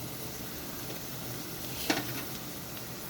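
Spices for a chang fish curry being sautéed in a pan: a low, steady background sizzle with one brief louder stir or clatter near the middle, no voices.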